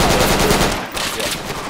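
Rapid automatic gunfire crackles in a burst of loud, closely spaced shots during a firefight in the military shooter game Project Reality, then thins out into scattered distant rounds.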